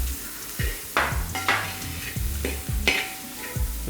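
Crushed dried red chillies drop into a pan of frying chicken kondattam, hot oil sizzling as a spoon stirs and scrapes the pan in several short, sharp strokes.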